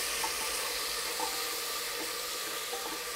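Ginger garlic paste frying in a pan for a winter carrot, pea and potato sabzi, giving a steady, even sizzle with faint occasional pops and no talking.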